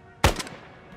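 A single loud, close rifle shot in ARMA 3 with the S.O.G. Prairie Fire DLC, a sharp crack followed by a brief fading echo, otherwise quiet.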